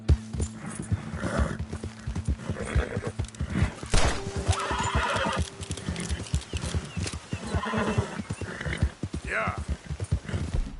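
Horse in Red Dead Redemption 2 neighing while its hooves clip-clop in a steady gallop rhythm, with a person talking over it.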